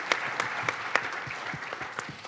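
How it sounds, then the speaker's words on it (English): A church audience applauds, a steady soft wash of clapping with a few sharper individual claps standing out, moderately distant. "he loves it when you applaud"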